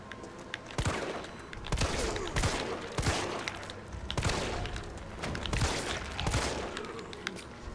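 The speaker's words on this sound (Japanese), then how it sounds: "これ銃声につられて他のゾンビが来やがんだ" Repeated gunfire bursts from Resident Evil 3 remake, loud sharp shots in rough rhythm across the whole stretch, with no talking over them.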